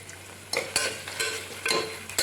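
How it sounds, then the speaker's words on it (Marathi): Onions fry in oil in a pressure cooker with ginger garlic paste added. The sound is a close, steady sizzle broken by several scraping stirs of a spoon against the pan, with no talking. "कांदो तळसून जातकीर ही आले लसूण पेस्ट घालता."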